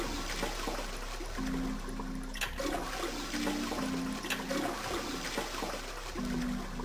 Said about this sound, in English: I heard a loud flushing noise.